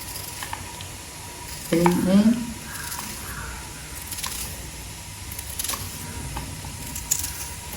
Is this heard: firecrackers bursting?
no